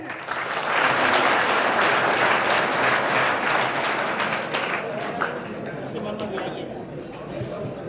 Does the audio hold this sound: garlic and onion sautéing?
no